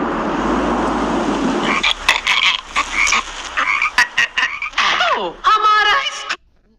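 A cartoon frog croaks in a string of short, loud, rising calls, with a brief burst of rapid warbling croaks near the end, over a noisy background that drops out after the opening seconds.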